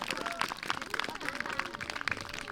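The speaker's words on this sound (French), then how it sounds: "vous allez faire des grands applaudissements pour vous, pour tout le monde. Vous pouvez vous applaudir déjà pour commencer" Crowd applause at the intercommunal games, a dense, steady clatter of many hands clapping, with voices talking through it.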